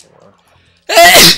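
A single loud, close sneeze bursts out abruptly after a near-silent stretch, with a brief faint murmur of speech beforehand.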